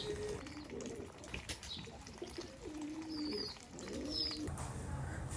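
Pigeons on a bird farm coo in soft, repeated low calls, several overlapping at close range against faint chirps and background hum.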